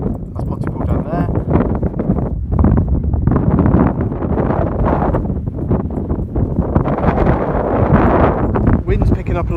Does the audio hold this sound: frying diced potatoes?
no